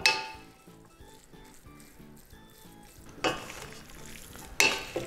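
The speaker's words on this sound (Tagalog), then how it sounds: "tutuloy ko lang ang paghalo" Tuyo pesto pasta with cheese is stirred in a pan over soft sizzling. A utensil scrapes and clinks against the metal in an uneven rhythm, with a couple of sharper scrapes near the end.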